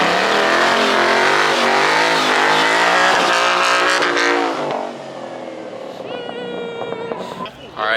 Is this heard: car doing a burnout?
yes